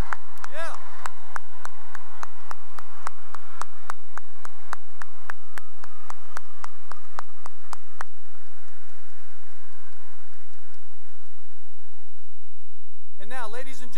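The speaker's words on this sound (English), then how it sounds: "If we can give them another round of applause," A graduation ceremony crowd claps for the high school class of 2021, bright hand-clap bursts dense at first and thinning out after about eight seconds, leaving faint talk before a brief burst at the end.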